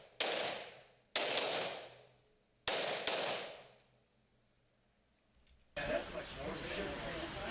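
Pistol shots crack at an action pistol match stage inside a small shoot house, coming as loud close pairs with a fast double tap, then a dense burst of shots at the end.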